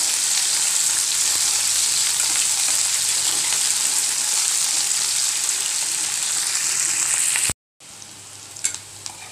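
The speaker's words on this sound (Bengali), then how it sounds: "এটার ভিতরে আমি প্রথমে পেঁয়াজটা দিয়ে দিব, সাথে আমি রসুনটা দিয়ে দেবো।" Onion and garlic fry in oil with a loud, even crackling sizzle held close for several seconds, broken by a short silent cut before the frying continues with a few stirring knocks.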